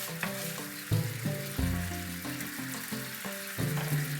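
A sauce thickened with sugar simmers and hisses in a pan, a steady sizzle with brief stirring sounds over a background of melodic tones.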